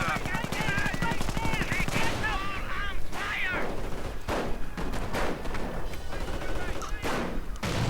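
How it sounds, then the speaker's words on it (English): Dense assault rifle fire from a WWI-style trench war strategy game, loud bursts of automatic gunfire crackling continuously with heavy impacts, filling the whole stretch without pause. "The assault rifles firing into the horde."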